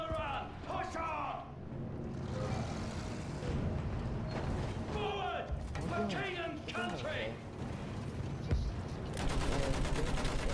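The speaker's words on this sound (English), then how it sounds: "Use that machine gun! Mow them down!" Battlefield campaign trench battle with a machine gun firing in bursts amid wider gunfire and mechanical clatter, a continuous busy din with shouted voices mixed in.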